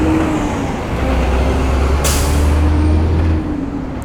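A heavy truck rolls past on the road in steady traffic, its loud low rumble filling the scene, with a sharp burst of air-brake hiss midway before the noise eases. No one speaks.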